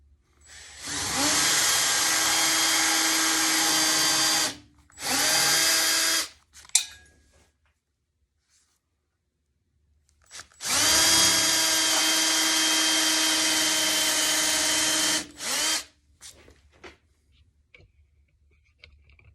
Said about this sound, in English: now I can just chase my pilot hole with my 1/4-inch bit